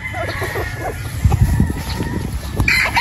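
A pure Boston Roundhead gamefowl rooster clucks and gives short calls close by, with a faint voice in the background.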